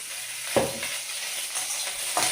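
Chopped onion browning in half a spoon of oil in a pan gives a steady sizzle, with a few louder stirring scrapes against the pan. No voices are heard.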